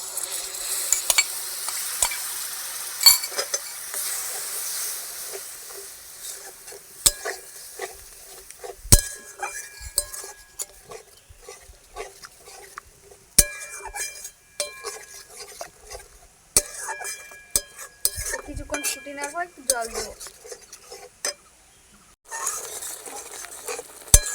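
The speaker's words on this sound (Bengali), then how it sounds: "দেওয়ার পর কিছুক্ষণ নেড়ে নিলাম" Prawn malai curry with beaten yogurt is stirred in a pan, giving repeated scraping and metallic clinks of a spoon over a soft background sizzle, close by and free of talk.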